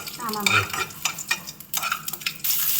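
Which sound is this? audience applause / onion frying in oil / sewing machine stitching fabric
onion frying in oil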